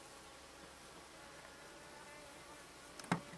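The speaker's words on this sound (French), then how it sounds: "Ça bourdonne de plus en plus." A faint, steady hum of honeybees buzzing in an artificial swarm hive being inspected, over low background noise, with a brief sharp knock near the end.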